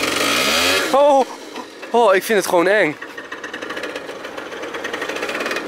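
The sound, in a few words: scooter engine starting and running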